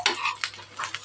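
Onions stirred while frying in a pan, a few quick scraping strokes over a soft sizzle, close and alone.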